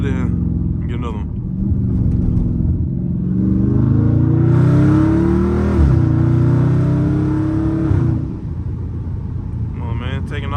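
A Dodge Scat Pack car's engine revs hard through a downshift, a loud sustained roar rising and falling over several seconds with a rumbling low end, captured from inside the moving car.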